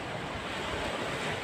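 Steady surf of ocean waves at a beach, a continuous broadband wash with low wind rumble against the microphone, fairly loud and unbroken with no speech.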